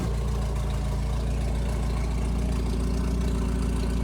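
A Jeep engine idles through a loud muffler, giving a close, steady, throbbing low rumble that runs unbroken with no voices.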